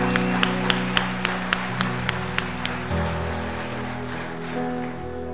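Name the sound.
congregation applauding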